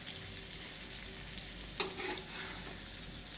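Stuffed bitter gourd (bharli karli) fries quietly in a pan, giving a soft, steady sizzle with one brief clatter near the middle, faint and with no voices.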